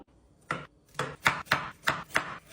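Carrots being chopped with a knife on a board, six sharp cuts in an uneven rhythm, close and clear with no talk.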